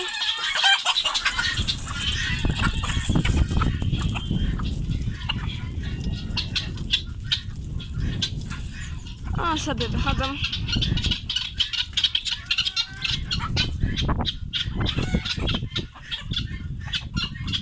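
Hens in a poultry run spill out of an opened coop in the morning, clucking and squawking continuously nearby with wing flaps, while someone talks over the flock.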